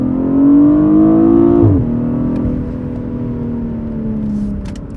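A BMW 840i Gran Coupe in drive mode, its exhaust note loud and close as the engine revs upward, then a brief dip at a gear change before a smoother sustained drone, with no talk.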